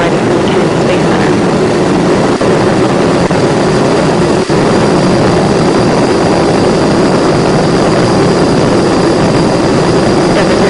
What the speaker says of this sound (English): Endeavour's engines were throttling down as the orbiter passes through the area of maximum pressure on the vehicle